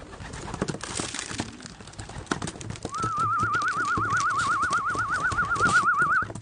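Pigeons coo close by in soft, low repeated calls over a busy outdoor background, joined midway by a steady warbling whistle-like tone that carries on to the end.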